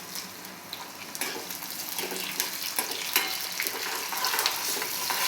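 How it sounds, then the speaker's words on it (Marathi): Green chilies frying in hot oil with garlic for a Maharashtrian dahi kadhi, a steady close sizzle and crackle with scattered pops, slowly growing a little louder, no voices. "आता मिरची सुद्धा चांगली तळल्या गेली पाहिजे।"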